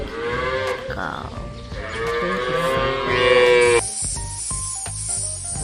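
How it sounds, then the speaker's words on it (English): Cattle mooing in an animal-filled farm setting, a drawn-out harmonic low call that swells and fades over several seconds, followed by scattered clicks and higher tonal noises from the surroundings. "Cow."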